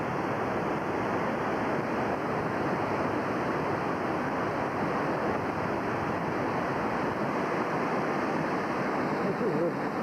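Rough floodwater rushes along the North Fork Wilson river during the 1996 flooding, a steady, dense roar with no break throughout.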